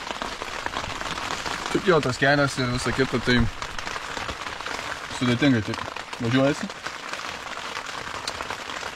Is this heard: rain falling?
yes